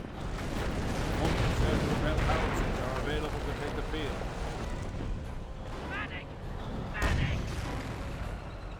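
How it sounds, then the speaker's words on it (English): Mortar and artillery barrage in the World War II strategy game Company of Heroes, Panzer Elite against British forces, with dense continuous rumbling explosions and booms layered together, swelling louder around the middle and near the end. "Mortars barraging the Bren squad now."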